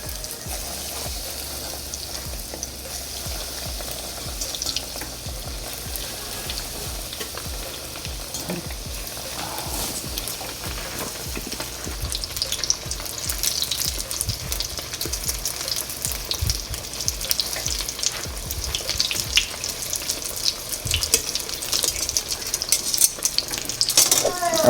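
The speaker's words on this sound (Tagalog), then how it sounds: "mabilis na prituhan lang to" Cheesy tofu squares fry in a pan with a continuous bubbling sizzle that grows louder and busier in the second half, with occasional utensil clinks and no voices.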